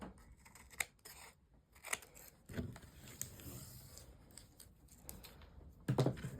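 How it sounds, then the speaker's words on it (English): Scissors snip off the corners of a sheet of paper for a die pocket, giving several quiet, crisp cuts spaced irregularly over faint room noise, with no talking. "I'm just going to notch off my corners."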